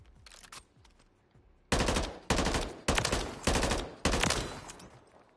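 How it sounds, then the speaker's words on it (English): Burst-fire gun in the Call of Duty video game, five sharp loud three-round bursts in steady rhythm after a few fainter shots, no talking. "I mean, it's a nice burst gun"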